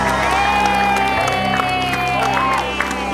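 A studio audience cheers and shouts to welcome guests onto a live podcast show, a dense crowd roar with whoops and some scattered clapping, with a held tonal voice or music line running through it.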